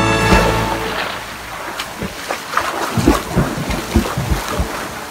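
A person getting into cool, clear open water, with splashing and sloshing that grows into irregular bursts over steady wind and water noise outdoors; a brief exhalation sounds near the start.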